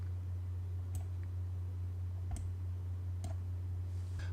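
A few faint, sharp computer mouse clicks while working in AutoCAD, spaced irregularly over a constant low electrical hum.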